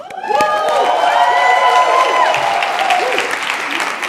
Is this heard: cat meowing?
no